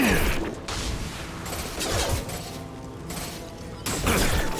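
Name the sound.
gunshots in Mass Effect 2 video game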